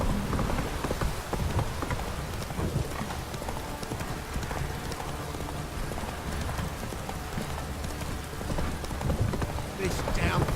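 Steady rain pours down in The Witcher 3, a dense hiss running throughout, with horse hooves clip-clopping along and a voice speaking over it.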